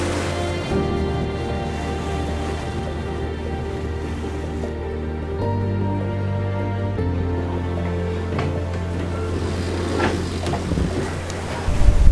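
A sailboat under way on a 110-nautical-mile passage toward Trinidad, with a steady low engine-like drone, rushing wind and water noise throughout, and a brief louder gust near the end.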